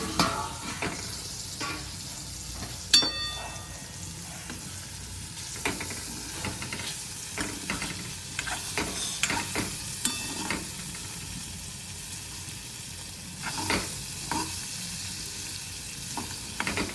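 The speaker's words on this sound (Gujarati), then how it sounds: "તો એક બાજુ કંટોલાનું શાક ચડે છે, એક બાજુ રોટલા ચડે છે" A kantola vegetable curry sizzling on the stove, a quiet steady hiss with scattered clinks and scrapes of utensils against the pot, heard alone and fairly faint.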